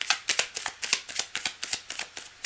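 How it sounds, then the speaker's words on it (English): Tarot cards being shuffled by hand, a quick run of crisp riffling flicks in an uneven rhythm, close and fairly quiet, with no talk over them. "Cards are shuffled."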